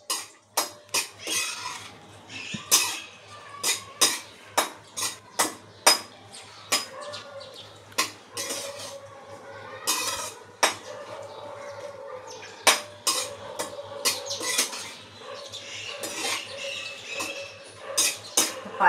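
Raisins and dry fruits frying in ghee in a pan for rava sheera, with a spatula tapping and scraping in quick repeated strokes over a faint sizzle.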